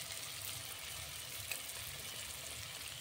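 Spices with coriander powder, black pepper and gram flour frying for masala bhindi, a soft continuous sizzle at low volume with no talking.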